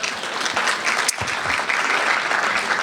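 Audience at a library art show and artists' presentation claps for the sponsors, a short burst of steady crowd applause without speech.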